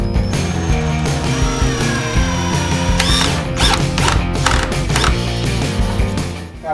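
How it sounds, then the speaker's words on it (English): Screws are driven into a wooden picture frame joint with a geared, ratcheting mechanical whir that runs loud and close for several seconds. "I'm just going to shore this up with a couple of screws."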